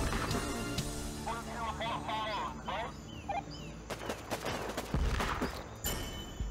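Bursts of gunfire in the video game Warpips crackle over ongoing Russian talk and game sound effects, with sharp shots clustering near the end.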